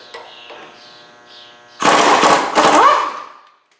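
A power tool, likely an impact wrench, removes the wheel hub bolts on a 2012 Cadillac CTS during a front wheel bearing job, firing two loud, close rattling bursts after a quieter humming lead-in.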